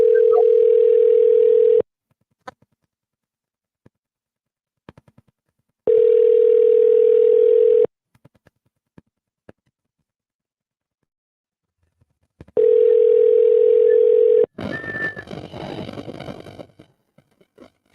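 An outgoing cold call to a foreclosure homeowner rings with three steady ringback bursts, about two seconds each with long silent gaps between, followed by a burst of noisy line sound near the end.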